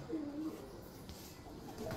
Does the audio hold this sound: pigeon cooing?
yes